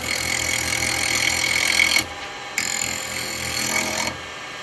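A wood lathe set up for hollowing with a carbide chisel runs with a loud, steady mechanical whine that abruptly drops away twice before resuming, close by with no talking.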